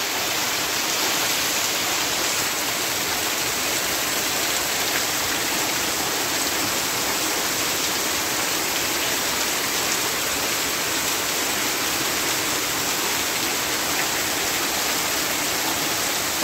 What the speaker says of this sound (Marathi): पावसाचा पण आवाज बघा कसा मुसळधार